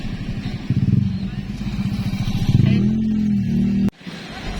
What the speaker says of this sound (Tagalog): Ay, may motor.